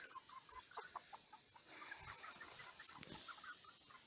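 Hens and a rooster on a poultry-breeding farm cluck and chatter steadily at close range, with soft overlapping calls and no talking.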